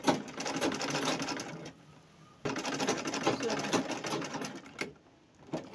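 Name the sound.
sewing machine stitching fabric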